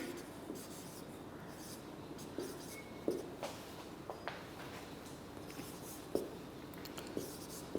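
Chalk or marker writing on a board during a chemistry lecture gives faint, scratchy strokes with small taps scattered over a quiet room background. No one speaks.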